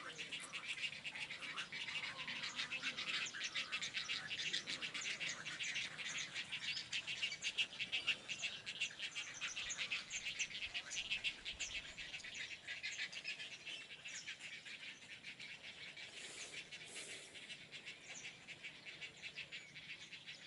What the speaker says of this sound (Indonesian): egrets were seen just a few days after hatching their eggs